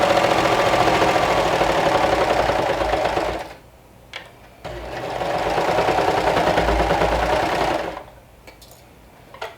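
A serger runs fast through several layers of fabric in two long, steady whirring bursts, near and loud, separated by a short pause with a few clicks.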